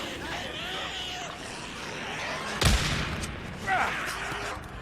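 Pipe bomb detonating in the video game Days Gone during a horde fight near Crater Lake: a sharp, loud blast midway, followed by another burst and a crackle of game noise and distant shots.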